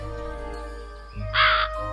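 A single crow caws once in a short, bright burst, set into a bedtime audio story about a crow and a pitcher, over a steady low musical or ambient bed.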